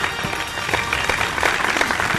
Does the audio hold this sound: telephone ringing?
no